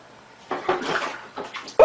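A cat drops into toilet water, setting off brief, close splashing and sloshing over about two seconds, ending in a sharper splash.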